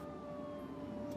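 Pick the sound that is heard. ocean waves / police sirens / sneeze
police sirens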